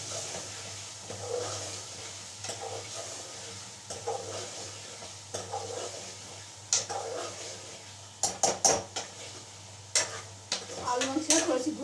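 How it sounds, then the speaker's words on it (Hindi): Potato pieces roast in spices in a home cooking pan with a steady low sizzle, while a spoon stirs them. Scraping and sharp clinks of utensil against the pan grow louder and more frequent near the end, over a faint constant hum. "आलू से थोड़ी सी भुनाई कर लें"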